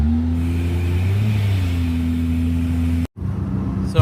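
Japanese kei car accelerating hard on a top speed run, a steady close engine drone with rising harmonics holding loud, then a brief cut and a rougher resumed run with wind buffeting at the end.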